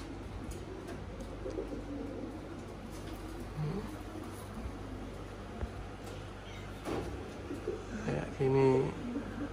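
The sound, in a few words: pigeon cooing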